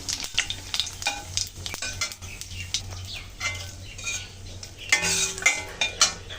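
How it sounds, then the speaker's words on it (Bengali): Dried red chillies and whole cumin seeds crackle and sizzle in hot oil for a fish curry, with steady frying hiss, sharp spice pops and utensil clinks, brightening toward the end. "তেল গরম হয়ে গেছে, আমি ফোড়নে দিয়ে দিচ্ছি শুকনো লঙ্কা,"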